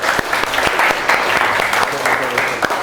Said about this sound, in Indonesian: tepuk tangan untuk kelompok pertama